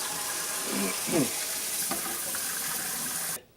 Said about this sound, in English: I'm just going to go ahead and put some cold water on these things.